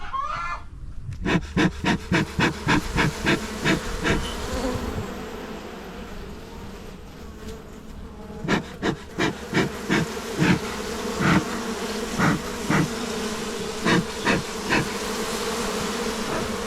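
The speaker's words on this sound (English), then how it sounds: "The majority of these bees, they're just going about their daily life." Honeybees buzz continuously around a hive, a dense droning hum punctuated by a long series of regular sharp clicks.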